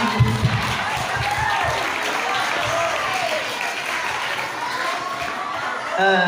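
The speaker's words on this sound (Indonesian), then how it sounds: "Tepuk tangan untuk Manoan" Audience applause in a seminar hall, a steady wash of clapping from a crowd lasting several seconds, with some chatter and a chuckle mixed in.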